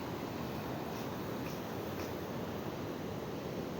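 Ocean waves breaking at the Simeulue surf spot, a constant broad wash of surf roar filling the whole clip with no voices.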